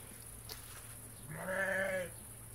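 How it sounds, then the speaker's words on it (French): A single faint, wavering sheep bleat rises briefly from a quiet background, heard alone and at a distance. "si vous entendez bêler, c'est les moutons"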